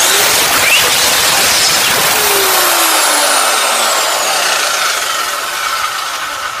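Work Zone circular saw running and cutting: a loud, close, continuous high-pitched whine filling the whole stretch, its pitch gliding downward as the blade slows near the end, with no talking.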